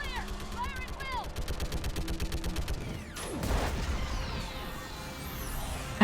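Rapid machine gun fire in Mass Effect 3 rattles steadily through the whole stretch, mixed with a whooshing sweep and a heavy blast midway and other battle effects.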